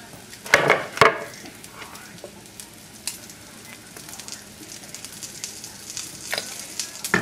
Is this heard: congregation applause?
no